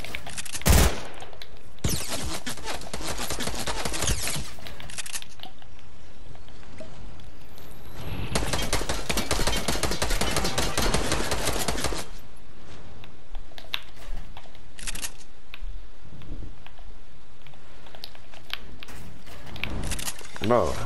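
Rapid bursts of video game gunfire from a 1v1 fight, with long sustained automatic volleys and scattered single shots, loud and close, while players talk over the shooting.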